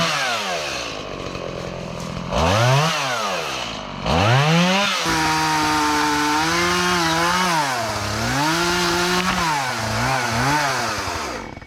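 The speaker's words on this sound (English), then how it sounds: "Man, my chainsaw's slipping." Chainsaw cutting wood up close with a slipping chain. It rises and falls repeatedly as it struggles to rev, with loud, wavering whines and a rough sustained bite through the wood.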